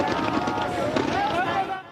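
Fireworks for an Olympic opening ceremony crackle and boom outside the stadium, a dense burst of rumbling bangs heard under a reporter's voice for about two seconds.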